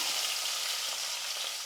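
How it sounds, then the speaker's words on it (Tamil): Mustard seeds splutter and crackle in hot oil, giving a dense, steady hiss of close sizzling and popping with no talk. "கடுகு நல்லா பொரியட்டும்."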